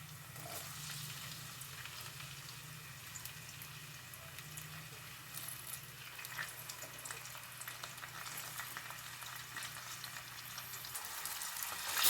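Onions, green chillies and curry leaves sizzle steadily in hot oil for prawn fry, a continuous close crackle with occasional faint spatters and no talk.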